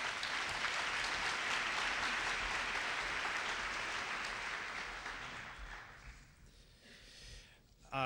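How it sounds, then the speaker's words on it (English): A breakfast event audience gives a sustained round of applause, loud dense clapping for about five seconds that thins and fades toward the end. "Let's give him a round of applause."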